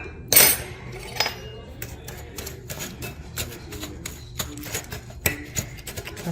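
A spoon works a half cup of brown sugar and a half cup of ketchup together in a bowl, giving a series of light, irregular clinks and soft scrapes at close range with quiet gaps between them.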